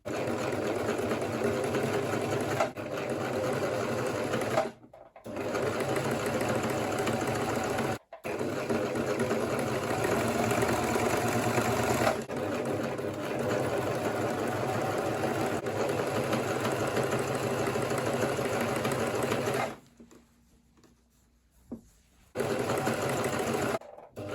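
Sewing machine running steadily while stitching the neckline of a kaftan top, a loud continuous motor whirr with rapid needle chatter, broken by a few short stops and a longer pause near the end.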